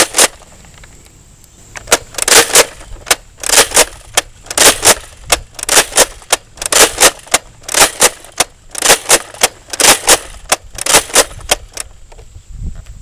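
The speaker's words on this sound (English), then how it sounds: "I'm just going to fire 10 level shots with the same disc that came with the blaster" A Nerf Vortex Revonix 360 blaster fires its discs in level shots, a loud close series of sharp mechanical whooshing clacks, roughly a dozen in an uneven rhythm with brief pauses between them and no talking.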